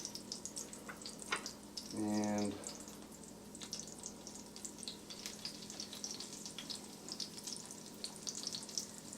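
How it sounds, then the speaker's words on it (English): Quiet, steady sizzling and crackling of venison frying in oil, with a brief spoken word partway through. "starting to sizzle."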